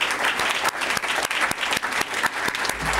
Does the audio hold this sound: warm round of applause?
yes